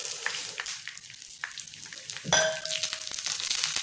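Vermicelli lightly frying in ghee, a bright steady hiss of sizzling fat close by, with soft scattered crackles and a brief metallic clink and ring partway through.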